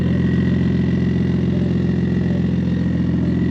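A BMW E46 M3 with a newly fitted aftermarket exhaust idles steadily nearby, its deep, even burble holding constant throughout with a slight lumpy pulse and no voices.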